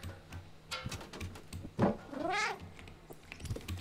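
A cat meows in the video game Stray, one drawn-out, rising-and-falling meow with a couple of softer cat sounds around it, close and moderately loud over quiet game ambience.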